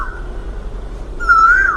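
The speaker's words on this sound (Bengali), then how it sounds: "কোকিল ডাকছে দেখুন" An Asian koel's clear, rising whistled call rings out once near the end over a low, quiet background hum.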